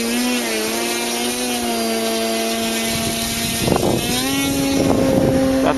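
An RC helicopter pulls out of a hover, its steady rotor and motor drone holding a constant pitch before rising and shifting as the throttle bursts, with louder swells of whooshing blade noise near the end.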